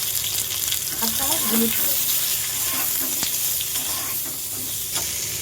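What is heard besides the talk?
mango frying in oil with mustard seeds and dried chilli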